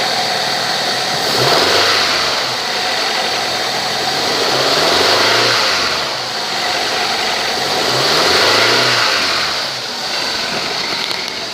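A 2000 Honda Accord engine running in place, a steady mid-pitched hum that swells and eases in slow repeated waves, alone and fairly close with no talking.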